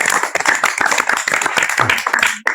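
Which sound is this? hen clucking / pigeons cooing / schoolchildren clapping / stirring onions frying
schoolchildren clapping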